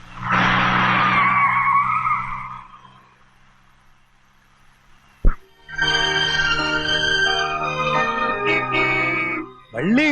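A car skids with screeching tires amid a comic scene, a loud sustained squeal with rising harmonic streaks after a sharp impact-like burst, preceded by a dramatic swelling tone and a quiet pause.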